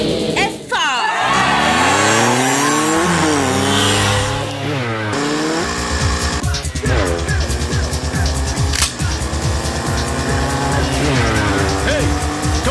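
A car brakes hard in a film scene, its tires squealing in long, wavering, sliding tones over engine noise, followed by a rougher stretch of skidding and rumble, all loud and close.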